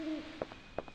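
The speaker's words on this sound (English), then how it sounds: "The super stock eagle sound?" A stock eagle cry sound effect from the Dino Crisis video game, two short sharp calls sounding close and loud over a steady low game ambience.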